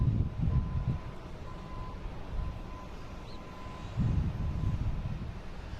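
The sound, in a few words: Southwest 737 MAX 8 taking off at Boston Logan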